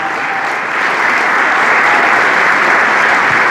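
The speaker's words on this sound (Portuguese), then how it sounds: "Eu queria que você desse uma grande salva de palmas ao Deus de Israel." Congregation in a church giving a loud, dense round of applause that swells and stays full throughout, heard close with no talk over it.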